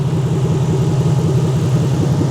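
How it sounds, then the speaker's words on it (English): A deep, rumbling Toyota 1UZ V8 engine swapped into a farm truck idles steadily up close through a custom exhaust, its low throb even and continuous with no revving, cooling fans running. "This thing's idling great."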